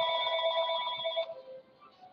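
A telephone rings with an electronic tone for a private caller, a steady close trill that cuts off partway through, leaving a softer lower tone fading out.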